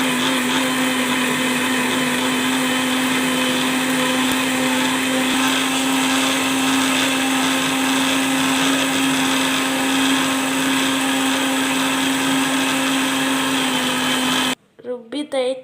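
A mixer grinder whirs steadily, grinding pulao masala paste with water, a loud continuous motor whine that runs unbroken for most of the time before stopping abruptly near the end.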